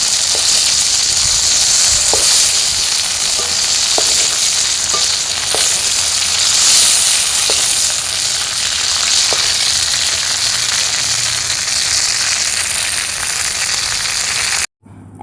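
Kuche fish (eel) frying in hot oil gives a steady, loud sizzle with a dense hiss and scattered small pops and crackles, continuing unbroken for about fifteen seconds before cutting off abruptly.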